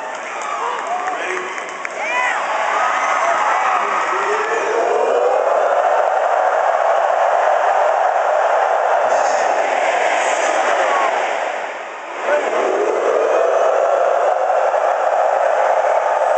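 A large stadium crowd roars and cheers continuously after a call to lead the cheer, with Third Day and the Razorbacks, swelling loud and steady, briefly dipping near the end before surging again.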